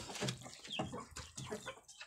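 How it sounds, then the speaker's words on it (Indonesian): Free-range village breeding hens cluck in short, irregular bursts close by, a few soft calls overlapping in a quiet pen. "Ini adalah induk-indukan saya dulur."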